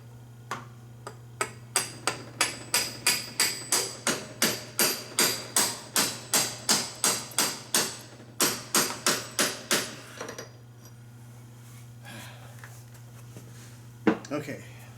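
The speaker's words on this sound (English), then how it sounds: "Get my sledgehammer here." A sledgehammer drives in the seal on a Harley-Davidson 4-speed transmission, landing about twenty sharp metallic blows in a steady rhythm, a brief pause partway through, then a final lone strike over a low steady hum.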